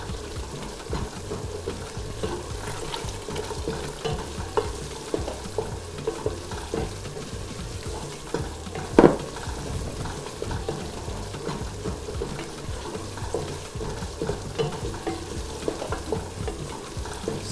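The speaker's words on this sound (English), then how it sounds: "So I go in with my onion and the pepper mix" Onion and pepper mix fries in a pot of egusi soup, a continuous low sizzle with faint stirring scrapes and one sharp clank of a utensil partway through.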